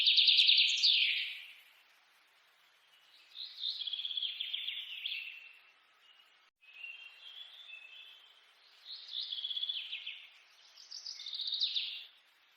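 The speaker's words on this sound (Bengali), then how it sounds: "অজানা পাখির ডাক।" Birds call in a cartoon forest, repeated bursts of high chirping and trilling song separated by short silences, clear and fairly close, with no voices.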